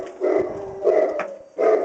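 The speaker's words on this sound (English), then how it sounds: "now we're going to go and look at dogs. They're vicious dogs." Large dogs barking at a pet store: three loud, close barks spaced roughly evenly, each a short gruff burst with quiet gaps between.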